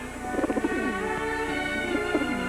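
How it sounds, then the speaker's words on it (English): A homing pigeon, a racing homer, coos in soft, rolling, throaty phrases, close and clear, repeating several times over a steady background hum. "a homing pigeon, a racing homer, the aristocrat of her breed"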